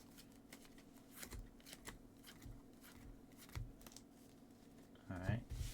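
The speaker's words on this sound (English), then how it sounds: "I'll give this a good shuffle." Cards riffle and shuffle in several short rustling bursts, with a louder flurry near the end.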